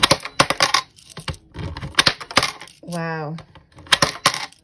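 Coins from a saved-change collection pour and clatter into a coin jar in quick metallic bursts, close and loud, with a person briefly speaking between the pours.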